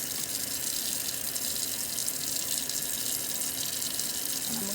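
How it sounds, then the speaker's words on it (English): Tap water runs steadily into a kitchen sink while raw chicken is rinsed, a continuous close splashing gush with no voices. "So you want to rinse your meat off good"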